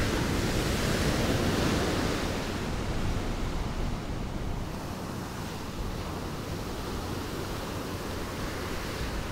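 Ocean surf breaking continuously on the beach at Far Rockaway in Queens, New York, heard as a loud, steady wash of waves with wind noise and no voices.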